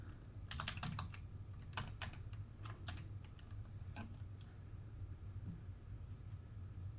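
Quick clusters of soft keystrokes on a computer keyboard tap out an email address, faint and close over a low background rumble, then trail off into quiet.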